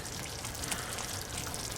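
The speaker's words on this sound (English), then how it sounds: "there is bubbling away in all its greasy, beefy, ketchupy, oniony goodness" Swiss steak in a greasy ketchup and onion sauce simmers in a pan over low heat during historic cooking, a soft, steady, close bubbling and crackling with no talk.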